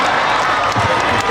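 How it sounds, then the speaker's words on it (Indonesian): Audience at an Islamic sermon gathering (pengajian) in Indonesia applauding for the regent, a dense, steady wash of clapping and crowd noise filling the whole moment without a break. "tepuk tangan untuk bupati"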